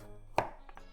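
A single knife chop slicing the top off a vegetable during preparation of spicy pork and vegetable miso soup, one sharp close cut followed by two fainter taps on the board in a quiet kitchen.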